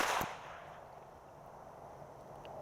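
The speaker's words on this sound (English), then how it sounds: "So now we're literally, for the first time, shooting this starter pistol just like we would our shotgun in the duck blind." A single starter pistol shot cracks sharply at the start, fairly loud and brief, fading into quiet outdoor ambience during hunting dog gunfire training.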